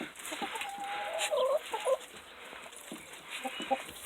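Chickens cluck in short bursts a short distance away, with a steady outdoor hiss underneath and a few louder calls near the middle.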